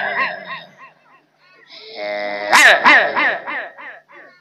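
A dog barks and howls close by in a short sequence of yelps and drawn-out howling calls, with a brief pause before a louder, rapid run of barks.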